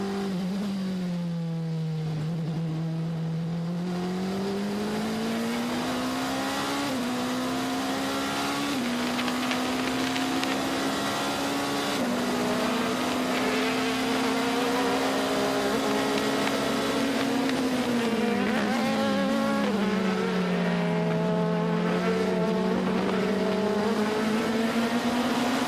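Race car engines at the 24 Hours of Le Mans 2020 drone loudly and continuously, their pitch rising and falling steadily as a car runs slowly around the circuit.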